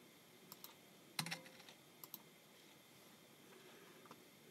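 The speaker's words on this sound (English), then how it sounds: "in case you're wondering what that clicking is." Computer keyboard typing heard as a few quick, faint bursts of clicks with quiet gaps between them, with no one talking.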